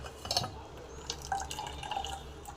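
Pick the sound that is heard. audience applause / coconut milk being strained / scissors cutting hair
coconut milk being strained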